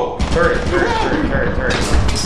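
A turret firing in Lethal Company, a loud rattling stream of rapid mechanical shots with clanking under it, with a voice talking over it.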